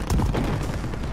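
Rapid automatic gunfire from Call of Duty: Modern Warfare multiplayer rattles continuously at full loudness, a dense unbroken burst of shots with no talk.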